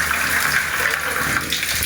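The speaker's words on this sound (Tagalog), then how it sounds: "Ito na naman ang ating gripo." Tap water running steadily from a household faucet in a newly built home, a continuous bright splashing hiss that holds even and close throughout.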